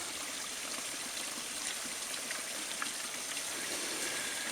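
Spring water flows out from under a tree on a hike at Upper Ironside Springs, a soft, steady trickling stream with no voices.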